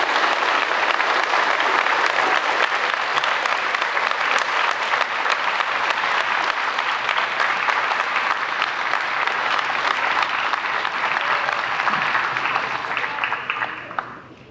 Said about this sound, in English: let's give them a round of applause for all they do for us